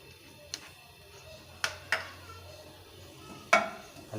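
Chopped onions frying in oil in a kadai for a dhaba-style aloo paratha filling: a faint, steady sizzle broken by a few sharp spoon knocks and scrapes against the pan.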